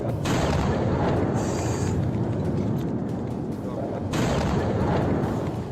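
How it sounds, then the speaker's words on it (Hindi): Old footage of a vacuum bomb, a fuel-and-chemical two-stage blast, heard as a continuous rumbling roar with heavy low booms, swelling in two bursts. "वैक्यूम बम की ताकत है 2 चरणों में होने वाला जबरदस्त विस्फोट"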